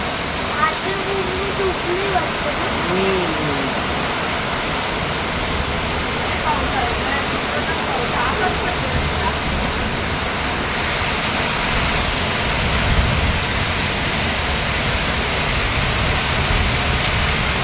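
Heavy morning rain falls as a continuous broadband hiss, with a voice faintly heard early on beneath the steady downpour.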